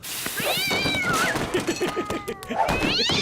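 A cartoon cat in a French-Canadian animated comedy series meows in a few drawn-out, rising and falling cries, close and fairly loud, with a quieter meow between them.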